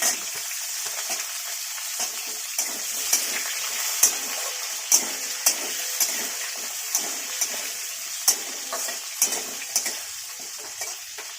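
Potatoes and other vegetables fry in a pan, with a steady hiss under a regular series of scraping stirs that recur about every half second.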